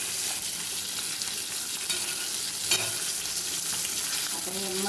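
Fish with mint frying in a pan while being stirred, a steady close sizzle with occasional scrapes of a utensil, no talking.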